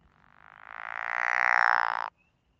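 A single drawn-out frog croak recorded during an anuran monitoring training, a buzzing pulsed trill swelling in loudness for about two seconds before stopping abruptly, heard alone and close.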